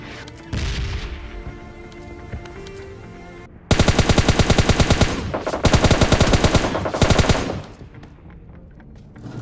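Automatic gunfire rattles in PUBG Mobile Lite squad combat, loud rapid bursts that keep firing for several seconds, break off briefly and resume, after quieter game sounds early on.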